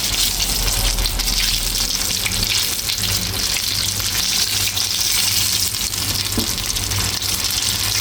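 Potato-filled piroshki frying in oil in a home kitchen, a constant bright hiss and crackle of bubbling oil heard close up, with no talking over it.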